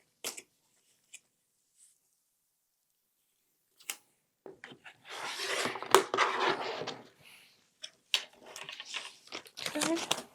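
Quilt fabric block of Tula Pink prints being trimmed with a cutter, giving bursts of crunchy scraping and slicing strokes close up, with scattered taps and quiet gaps in between.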